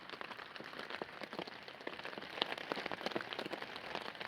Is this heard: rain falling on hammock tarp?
yes